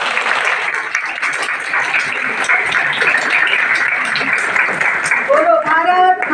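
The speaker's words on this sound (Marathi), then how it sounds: "आपण जोरात टाळ्या वाजवूया बाकीची." A school audience, many children among them, claps loudly and steadily at an honouring ceremony for judge Dhanashree and Kavita, a dense continuous wash of hands with a voice briefly calling out near the end.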